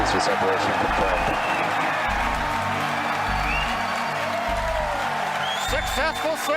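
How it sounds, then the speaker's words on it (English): A crowd cheering and applauding at Falcon Heavy side booster separation, a dense wash of noise under louder spoken commentary that runs throughout. "if you can hear me over the cheering"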